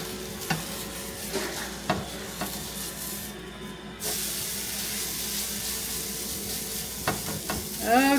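Cottage cheese tortilla frying in a hot skillet, a steady sizzle and hiss with intermittent scraping and stirring clatter close by.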